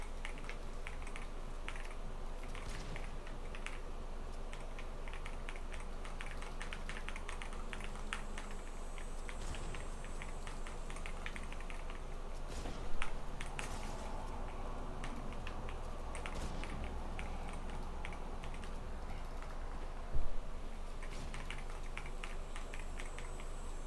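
Continuous fast clatter of keys on a Mad Yunzi X Mad Lions 68 HE keyboard, a budget Hall-effect model, with steady dense keystrokes at moderate volume and two louder knocks partway through.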